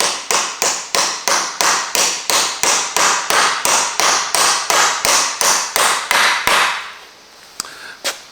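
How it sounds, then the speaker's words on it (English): Rapid, regular hammer blows ring out on a metal golf buggy gearbox part, about three per second, loud and close, then stop, leaving a few scattered clinks. "it was a lot easier to hammer this"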